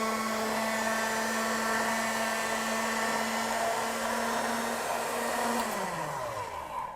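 A motorized pasta machine hums steadily and loudly as thin pasta dough feeds through its rollers for tortelli, its pitch sliding downward near the end as the motor slows, with no talk.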